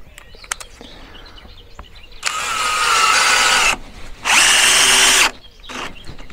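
A power drill drives a screw into terrace decking in two loud, close bursts, the first about a second and a half long and the second about a second, separated by a short pause, with faint birdsong and quiet outdoor ambience around them.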